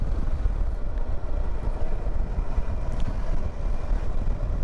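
A Ducati Multistrada 950 S motorcycle rides at slow speed, its engine chugging unevenly beneath heavy wind rush buffeting the microphone.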